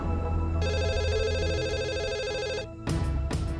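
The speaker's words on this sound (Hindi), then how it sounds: "बैंक से फोन होगा।" A telephone rings loudly in a home scene, giving a sustained electronic trill that breaks off, then two shorter bursts follow after a brief gap, with a low background hum and no voices.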